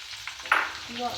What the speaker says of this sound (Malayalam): ഫുള്ള് വെളുത്തുള്ളി എടുത്തിട്ട് ചതച്ചെടുത്തതാണ് ഒരു ഏഴെട്ട് വെളുത്തുള്ളി ഉണ്ടത് എന്നിട്ട് നമുക്ക് ഇട്ട് കൊടുക്കാം